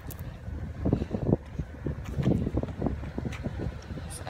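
Gusty wind buffets close to the microphone in uneven rumbling bursts, low and blustery throughout, outdoors in Moda, Kadıköy.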